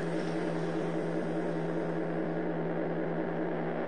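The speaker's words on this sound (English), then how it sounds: "the brand new engine, and it makes your car sound like this" A steady, droning BMW engine hum in a video game holds at an even level throughout, with no changes in pitch or rhythm.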